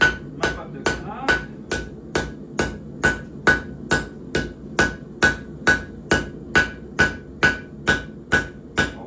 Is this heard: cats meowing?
no